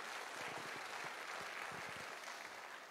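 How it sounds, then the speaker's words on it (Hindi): An audience gives a steady round of applause, faint and distant, continuous throughout with no pauses. "एक बार जबरदस्त तालियां तो बनती हैं सर"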